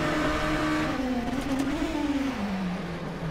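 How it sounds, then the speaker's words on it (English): Turbocharged four-cylinder engine of a Mazda RT24-P DPi prototype racer at Sebring in rFactor 2 holds a loud, steady drone that slowly falls in pitch, continuous and close, with no voices. "the one thing that glares out to me as being the most beautiful thing on this entire planet is this engine noise"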